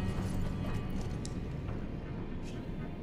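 Horse hooves clip-clop in the video game Elden Ring, a steady rhythmic trot at moderate level over a continuous game soundscape, with faint voice present.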